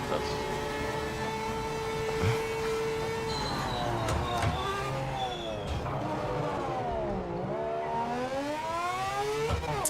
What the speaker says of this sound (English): This Mazda sounds wild. Yeah, It is. Sounds great.